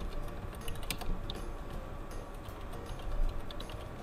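A computer keyboard being typed on in steady light clicks while a group name is entered in Windows 10, close up and continuous, with no voices over it.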